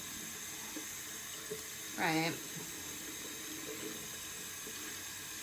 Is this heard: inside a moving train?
no